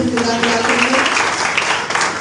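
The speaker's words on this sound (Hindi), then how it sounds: "आइए तालियां बजाएं एक बार फिर" A church congregation at an Urdu sermon breaks into applause, a loud, continuous spread of many hands clapping with a voice carrying over it.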